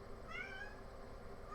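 A pet cat gives one short, clear meow at moderate distance over a constant low background hum.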